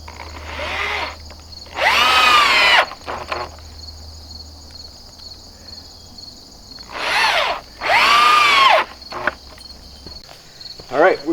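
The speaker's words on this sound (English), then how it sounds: "make sure you drill the same 2x4." A power drill bores into a 2x4 while building a portable folding sawbuck outdoors for firewood, heard in two loud bursts of whining, rising motor pitch a few seconds apart, with crickets chirping faintly in between.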